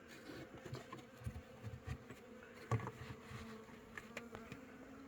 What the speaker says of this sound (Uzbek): Mana arilar kirib chiqyapti.